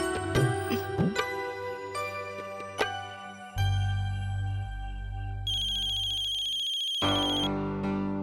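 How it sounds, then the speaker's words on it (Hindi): A phone ringtone plays continuously, a bright electronic melody with shifting tones and a steady low hum beneath, loud and close, with no talking. "मारिजा का फोन है।"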